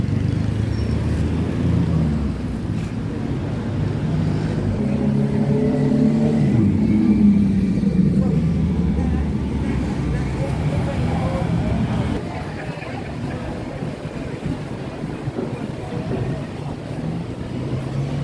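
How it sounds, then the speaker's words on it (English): Tuk-tuks and other traffic on Sukhumvit 11 in Bangkok, with engines humming and revving close by, swelling and fading as vehicles pass, under people talking. "Everywhere is tuk-tuk."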